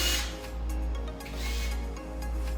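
An electric screwdriver motor running after its speed button is pressed, a steady low hum with a gentle rise and fall in level, close by and without speech.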